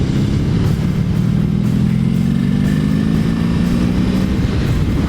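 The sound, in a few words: Honda V65 Magna motorcycle revving with Mac exhaust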